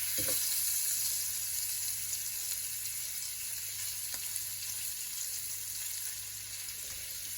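Lobster pieces sizzling steadily in a pan of hot juices as they are tossed, a constant close frying hiss with no talking.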